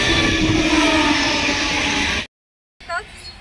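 A train rumbles loudly and close by near Naigaon East, then cuts off abruptly, followed by a brief faint voice and softer background noise.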